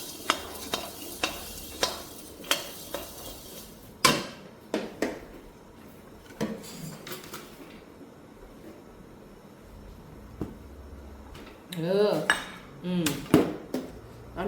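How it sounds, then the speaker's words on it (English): Coriander and cumin seeds toast in a pan over low heat, with a spoon scraping and stirring in repeated close knocks and clatters over a faint sizzle, and a voice speaking briefly near the end. "You can toast in the pan at low fire."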